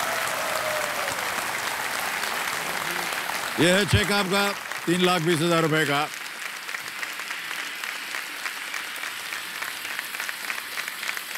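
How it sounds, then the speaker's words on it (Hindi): A studio audience on a Hindi quiz show, Kaun Banega Crorepati, fills the hall with steady, loud applause throughout, briefly overlaid by a host speaking in the middle. "तालियां बज जाए इनके लिए"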